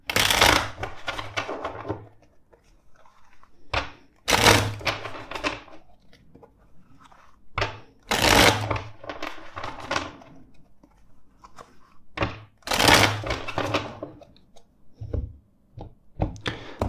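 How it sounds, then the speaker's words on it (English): Tarot cards shuffled by hand during a reading, four crisp, riffling bursts spaced a few seconds apart, each with a sharp onset and quick flutter, close and clear with quiet pauses between. "Let's first shuffle four times."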